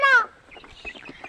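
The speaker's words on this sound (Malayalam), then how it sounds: "കോഴികൾക്ക് ഭക്ഷണം കൊടുക്കുകയാണ്." A hen or rooster lets out one clear cluck at the start while chickens are being fed, followed by faint scattered pecking and soft clucking close by.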